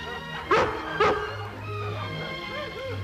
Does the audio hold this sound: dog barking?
yes